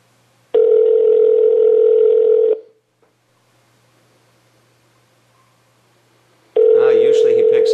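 Two long electronic ringing tones from a phone line, about two seconds each with a pause between; the second cuts off abruptly as it starts.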